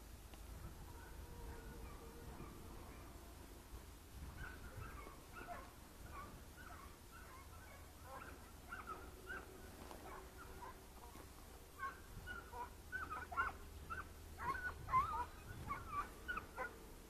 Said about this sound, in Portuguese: essa cadela que tava aqui já tá tocando aqui embaixo